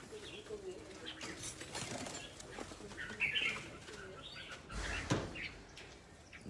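Pigeons at a Vietnamese pigeon show coo and flutter their wings in short bursts, with a louder flapping flurry near the middle, over a busy room murmur.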